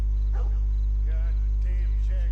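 A dog barks and yips a few times in Red Dead Redemption 2, the barks mid-distance over a steady low hum, with faint ambient game sound between them.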